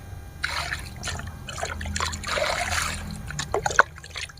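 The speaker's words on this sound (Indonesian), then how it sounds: "Oke kita lakukan penyiraman." Water is poured onto a bougainvillea plant, a soft trickling and splashing with a few drips, close and quiet, with no talk.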